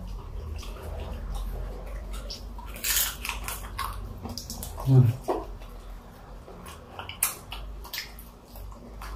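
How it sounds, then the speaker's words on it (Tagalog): Close, crunchy chewing of dried squid with a few sharp bites standing out against quiet room noise, with brief breaths and small mouth sounds. "Malutong pa rin yung pusit, guys."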